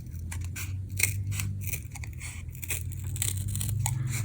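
Scissors snip through a handmade craft stamp, cutting out a shape in a run of close, crisp cuts with a steady low hum underneath.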